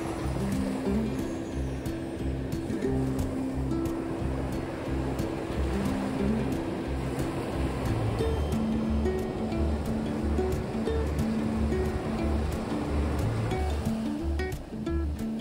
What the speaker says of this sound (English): listening to the waves hit the shore